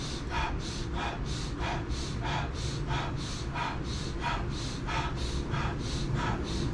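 Fast, rhythmic Wim Hof style breathwork: a steady series of quick, forceful inhale-exhale cycles, roughly two per second, close and clear with no talking.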